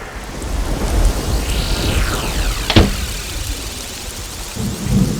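Steady heavy rain pours throughout, with a sharp, loud thunderclap cracking near the middle and rumbling off, all at fairly close range with no voices.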